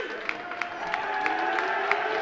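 Crowd at a high school championship basketball game between St. Frances and Gonzaga College High School, a steady roar of cheering and clapping with sharp claps and whistles popping through, fairly distant and sustained.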